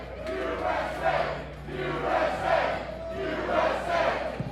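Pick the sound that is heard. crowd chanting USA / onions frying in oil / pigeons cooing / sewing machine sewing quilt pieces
crowd chanting USA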